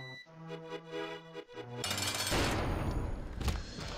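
A bomb blows up in The Binding of Isaac Rebirth, a sudden loud blast bursting in after a few seconds of game music and rumbling on to the end.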